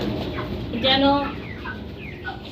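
A chicken lets out a short burst of clucking at a poultry shop, brief and fairly close, while someone talks through the sound.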